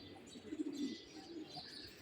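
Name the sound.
small pigeons cooing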